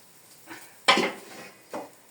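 Cooked gözleme flatbread lifted from a pan onto a tray, heard as a few close clanks of metal on metal: a light knock, a sharper louder clatter, then one more soft knock, with no speech.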